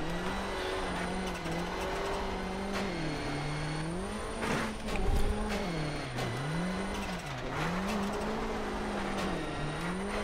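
Rally car in the Dirt video game, its engine revving up and down continuously through gear changes with a brief skid or bump midway, steady and prominent without speech.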